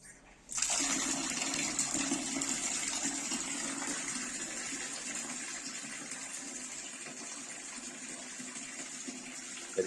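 Water gushes steadily into a bucket fitted with a water-level alarm sensor, starting abruptly and then pouring in a continuous, fairly loud stream for several seconds without any talking.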